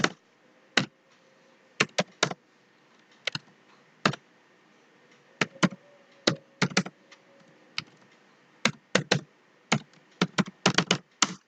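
Keys on a computer keyboard tap in irregular bursts, crisp and close, with short pauses between clusters of keystrokes over a quiet background.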